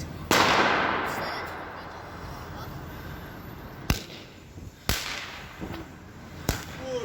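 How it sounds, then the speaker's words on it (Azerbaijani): Firecrackers going off on New Year's Eve, one loud sharp bang followed by several more cracks spaced a second or so apart, with voices talking in the background. "Belə bir fişəng idi."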